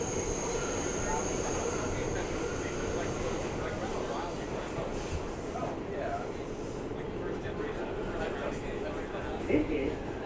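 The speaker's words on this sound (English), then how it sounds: "I'm on the 207th Street bound A express train." Steady rumble of a New York City subway A express train heading toward 207th Street, recorded from inside the car, with a continuous roar of wheels and motors under faint talk.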